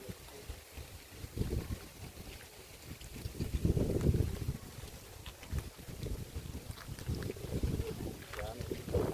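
Wind gusts buffet the microphone in a low, rumbling roar that swells and fades, with faint voices mixed into the outdoor noise.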